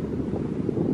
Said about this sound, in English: It is windy up here.